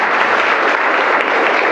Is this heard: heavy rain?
no